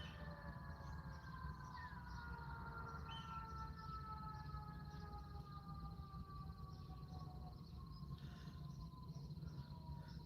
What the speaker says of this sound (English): You hear all these goddamn sirens.